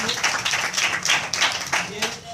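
A crowd clapping at a coaching academy event, a dense patter of applause close by, with a voice talking over it.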